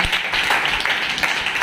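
A church congregation clapping loudly during worship, quick steady hand claps from many people in a dense rapid patter, moderately loud and close.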